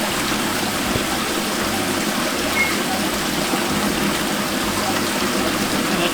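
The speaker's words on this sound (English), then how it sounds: "So what I'm doing is filling up this penstock here by opening this valve." Water rushes into a mill penstock through an opened valve at a backroads mill, a steady broadband roar that holds at an even level throughout, with no voices.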